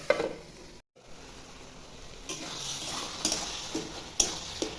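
Tomatoes and green peas frying in a pan for ripe tomato chutney give a soft, low sizzle, with occasional spoon scrapes and stirring bursts, no one speaking.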